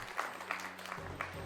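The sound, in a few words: applause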